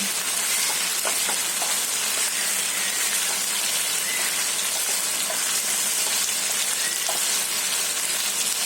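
Chicken Changezi sizzles steadily in a pan as its cooking water dries off, a continuous close, dense crackle with scattered sharper pops and no voices.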